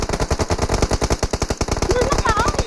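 Rapid automatic gunfire from the mobile battle royale game PUBG Mobile, a steady dense burst of shots running throughout, loud and close, with faint game effects over it.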